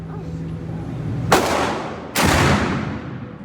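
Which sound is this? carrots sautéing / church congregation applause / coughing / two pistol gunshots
two pistol gunshots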